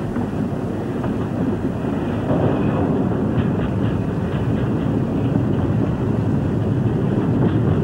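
A British Rail Class 31 Brush diesel locomotive train rumbles steadily past at close range, a continuous heavy engine roar with a faint rhythmic clatter of wheels and some wind buffeting throughout.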